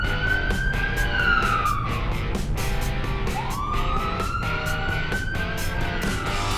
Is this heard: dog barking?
no